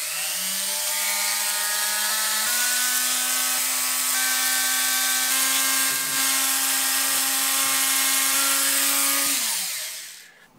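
A rotary tool whines steadily at high speed, its pitch shifting slightly as it drills into a die, then spins down at the end.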